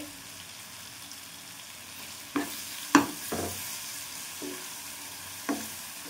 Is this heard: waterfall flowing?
no